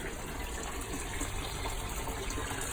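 Water from a hose pours steadily into an aquarium during aquascape setup, striking a lid and stirring the tank, a constant close gushing fill with no talk.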